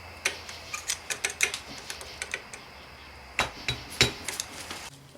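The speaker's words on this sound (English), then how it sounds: "So I could take a screwdriver and just give it a little tap" A screwdriver taps a clutch snap ring during an F4A42 transmission rebuild, giving a run of light, sharp metallic ticks in quick clusters, close and clear, with a brief pause before a few more taps.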